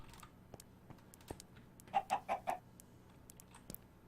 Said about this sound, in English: Come here, you chickens.